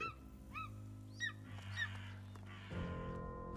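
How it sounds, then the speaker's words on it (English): In the video game Divinity Original Sin 2, a bird gives several short honking, goose-like calls in quick succession, faint and fairly distant over a low hum of background game music. "There is a bird"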